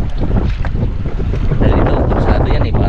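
A small boat pounds through choppy water, with loud wind buffeting the microphone and waves splashing continuously close by.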